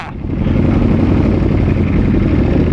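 A Ducati V4 race motorcycle with an SC-Project exhaust roars loud and near, kicking in after a brief moment and then holding a steady, rough, full-bodied engine drone.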